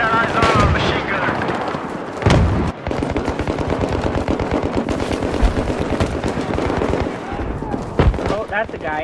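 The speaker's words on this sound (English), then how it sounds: "I got eyes on a machine gunner." Loud, sustained machine gun fire in Battlefield 3, rapid rhythmic bursts with a few heavier blasts and explosions mixed in, dense and close throughout.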